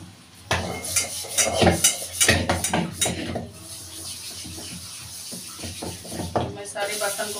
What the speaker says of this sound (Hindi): अब चलिए जो है मैं अपने बर्तन को क्लीन कर लेती हूँ